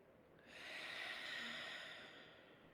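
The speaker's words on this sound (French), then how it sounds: "on expire par la bouche" One long, steady breath is exhaled through the mouth during a relaxation breathing exercise, a soft airy rush that swells gradually and fades away, close and alone without any talking.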